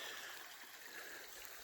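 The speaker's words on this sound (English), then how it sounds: "Yeah, running water. Nice. Love the sound at night." Running water of a creek in Pine Creek Gorge, Pennsylvania, at a night campsite: a soft, continuous rushing and trickling at a distance, faint and steady, with no talk.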